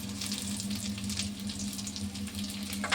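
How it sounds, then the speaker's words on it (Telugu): Prawns frying in hot oil for a green chilli prawn curry, a steady close sizzle and crackle with a low hum beneath, no voices. "ఈ రొయ్యలు ముందు చక్కగా వేపాలండి"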